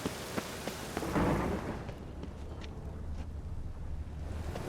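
Rain falls in a town in the video game The Witcher 3: Wild Hunt, a steady soft patter with a louder rumbling swell early on and scattered drips and knocks.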